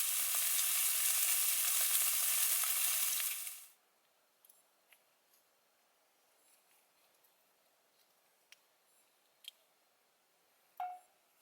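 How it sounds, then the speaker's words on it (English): Butter melting and sizzling in a pan on a G-Stove wood stove inside a hot tent during winter ATV camping, a loud steady frying hiss for a few seconds that cuts off into near silence with faint scattered clicks. "Just melting a little bit of butter in the pan here"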